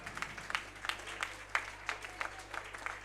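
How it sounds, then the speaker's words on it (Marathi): Guests clap at an anniversary celebration during an honouring ceremony, a sparse, faint patter of hand claps from a small crowd, fairly distant over a low steady hum. "आपण जोरदार टाळ्या वाजवाव्यात"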